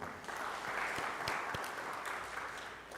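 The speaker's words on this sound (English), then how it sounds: "Let's give them one clap once again." Audience applause at Kenya's Industrialization Conference 2023, a steady wash of clapping from a large hall crowd sustained evenly for a few seconds with no talk over it.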